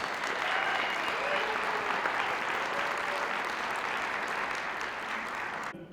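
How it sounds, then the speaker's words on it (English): Steady audience applause for filmmakers at an awards ceremony, a dense continuous wash of clapping at even strength that cuts off abruptly at the end. "a big round of applause for all of the filmmakers"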